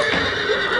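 A healthy horse in a stable gives a loud, close neigh, a short quavering whinny with the faint shuffle of hooves beneath it and no voices.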